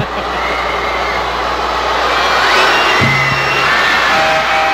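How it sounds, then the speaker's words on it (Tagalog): A basketball crowd cheers for player James Yap during a Barangay Ginebra versus Purefoods game, a steady, broad roar of arena noise filling the space with a brief low tone cutting in near the end. "Oh, the crowd showing their love for James Yap."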